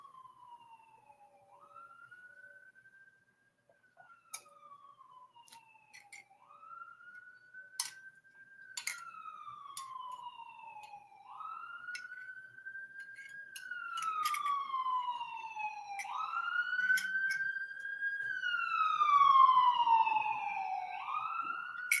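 A police siren wails in repeated rising and falling sweeps, swelling from moderately distant to louder and closer, with brief sharp yelps cutting through and no talking.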